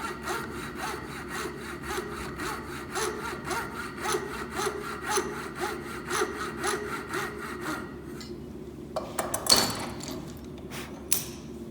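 A hand saw cuts through wood for a tulip woodworking project in quick, even back-and-forth rasping strokes, close and steady, then slows to a few scattered scrapes and taps near the end.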